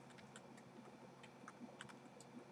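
Quiet keystrokes typing a command on a computer keyboard, a sparse run of faint, irregular clicks over a low background hum.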